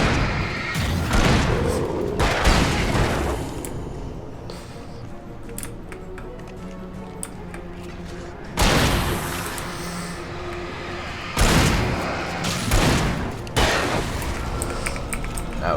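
Flashbang blasts and game noise from Alan Wake come in several loud broadband bursts, separated by quieter stretches filled with rattling and clicking.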